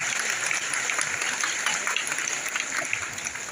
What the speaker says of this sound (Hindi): बैठे रहेगा और ताली बजा के सभी लोग अभिवादन करेंगे